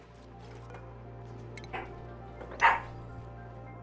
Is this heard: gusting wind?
no